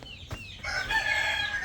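A rooster crows once, close and loud, with a long ringing call that begins partway through after a short quiet stretch and carries to the end; no one speaks.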